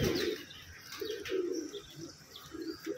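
A Kasuri pigeon coos in short repeated bursts, low rounded calls pulsing every half second or so, close by, with faint chirps and a brief wing flutter behind.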